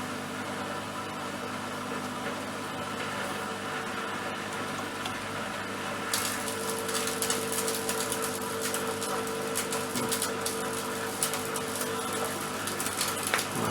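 A 1996 Bosch WFS 4330 washing machine with worn bearings hums and churns steadily, then shifts into a louder, harsher whirring rush about halfway through as its spin cycle, rated up to 1400 rpm, starts.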